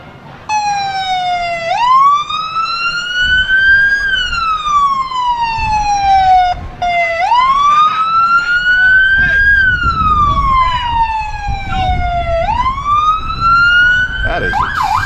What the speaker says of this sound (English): I can't wait till the sirens go away.